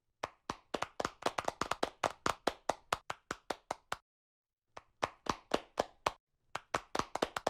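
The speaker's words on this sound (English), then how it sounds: "Ladies and gentlemen, a warm round of applause for Dr." A small symposium audience claps for Dr. Yuichiro Anzai in a sparse, distinct volley, a pause in the middle, then a few more claps resuming, fairly near and isolated.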